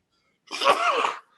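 A single loud, close sneeze bursts out after a moment of silence, sharp at the onset and trailing off over about a second, with no talk over it.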